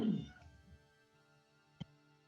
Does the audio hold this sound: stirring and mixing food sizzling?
no